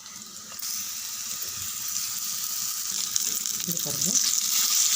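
A coarse ground paste of onion, green chili and garlic sizzles steadily in a hot pan, a bright continuous frying hiss that grows slightly louder, with a brief spoken remark at the start.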